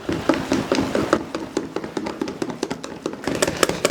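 Crepe batter with vanilla being whisked by hand in a bowl, a quick run of light rhythmic taps and scrapes going steadily without pause, close and fairly loud with no talking.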